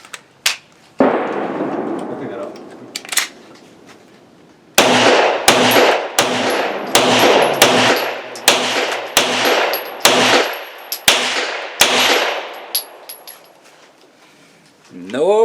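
Hi-Point YC9 9mm pistol fired at an outdoor range: a magazine's worth of loud, sharp shots in a steady rapid string with ringing decay, after a couple of earlier isolated shots.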